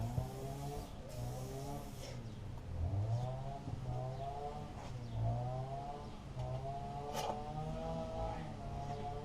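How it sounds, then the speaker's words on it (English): A chainsaw runs somewhere in the background, its engine droning steadily and surging up and down in pitch, fairly faint and distant throughout. "Someone's using a chainsaw by the sounds of it in the background"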